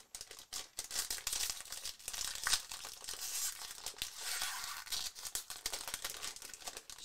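Crinkly plastic packaging around a Disney Anna toy figure is torn and crumpled open close by, a continuous busy rustle with sharp crackles throughout, no talking.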